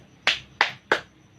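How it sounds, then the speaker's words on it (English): Three crisp, evenly spaced claps from a class, each a sharp group burst with a short decay, in a quiet room. "Give them a 3 claps."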